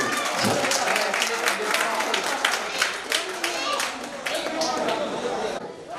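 Applause from the audience at a poetry gathering of visually impaired poets, a prize-giving on stage, fills the whole span as steady dense clapping mixed with crowd chatter, easing off near the end.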